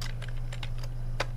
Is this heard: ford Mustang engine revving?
no